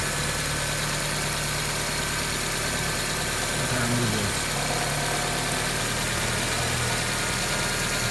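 A 1995 Geo Prizm engine idles steadily during a vacuum test with a continuous low rumble and vibration, close by, its pitch shifting slightly partway through.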